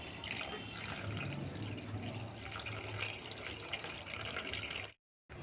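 Water pours and trickles steadily as tamarind is soaked in rice-washing water in a kitchen, a continuous close splashing flow that drops out briefly near the end.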